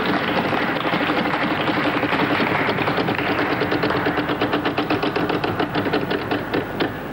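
A prize wheel spun on a 1996 French Wheel of Fortune set: a fast ratchet of clicks that gradually slows and spaces out, heard against a broad wash of studio noise.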